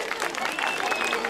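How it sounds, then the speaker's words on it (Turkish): An audience at a holiday theatre night applauds, a busy mix of claps and crowd noise with voices mixed in over a short burst. "Bir alkış yok mu ya?"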